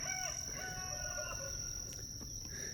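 A rooster crows from some distance amid a steady hum of insects and faint clucking, with no one speaking.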